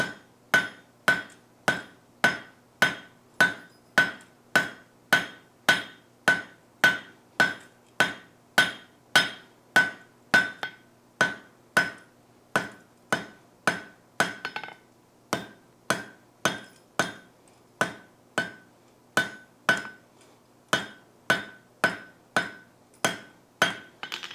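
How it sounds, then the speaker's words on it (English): A blacksmith's hammer strikes a hot steel bar with a steady, ringing rhythm, roughly two blows a second, over dozens of close, bright clanks with brief pauses between runs. "I'm actually going to hammer this down to our thickness before I cut it loose from the bar."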